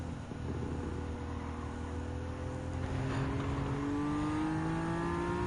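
Simulated race cars in Gran Turismo 7, a Nissan 400R and a 2015 Mercedes-AMG GTS, accelerate hard at high speed. The engines drone steadily, and their pitch climbs in rising whines as they pull away. No one speaks.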